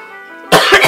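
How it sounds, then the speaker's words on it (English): A person coughs hard in two or three quick, loud bursts right up close after a stretch of quiet game tones. "Jeez, I'm coughing like a maniac."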